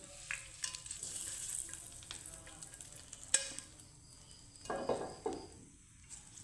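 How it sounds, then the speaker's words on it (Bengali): Vegetables sizzle and fry in a pan while being stirred, with scraping strokes at a moderate distance and a few louder clanks against the pan. "তো তরকাটাকে মিক্স করে নেব"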